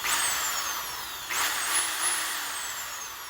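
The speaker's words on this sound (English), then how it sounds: "I like to just sort of sand the inside with my sanding bit on my drill" A steady, whining power drill with a sanding bit runs continuously at close range, sanding the inside of a golf club shaft for a forged custom iron, with a brief surge in intensity partway through as the bit bites.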